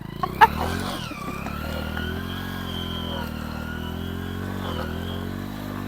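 Vehicle engine running steadily as it lurches along a rough, muddy village road, a continuous close drone with slight pitch shifts and a brief sharp knock near the start.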